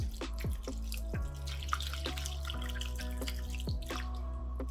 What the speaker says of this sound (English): Now, I'm going to pour the soup over it.